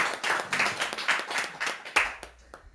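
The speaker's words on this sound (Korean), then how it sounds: "네, 박수 한번." A church congregation claps during a New Year thanksgiving Sunday worship service. The clapping is a dense, rhythmic patter of many hands that carries on steadily for about two and a half seconds, then thins out and stops. No one speaks over it.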